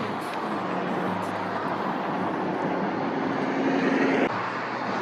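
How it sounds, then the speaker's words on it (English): Airplane passing overhead along a roadside running route, a steady broad rumbling roar that holds at the same level throughout, with no one talking. "There's like a plane flying overhead."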